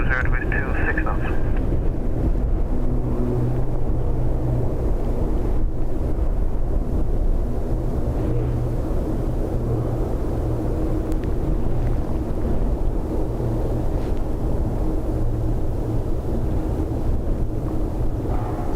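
Strong wind at Dublin Airport roaring and buffeting a microphone in a steady, loud rush throughout, with a low continuous rumble that may include distant aircraft.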